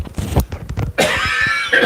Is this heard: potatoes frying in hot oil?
no